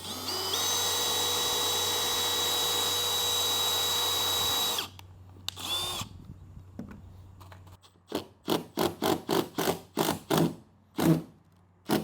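A power drill drives stainless steel screws into trailer flooring, running in a long steady whine, then a short burst, followed by a quick series of brief clipped trigger pulses near the end, close and alone.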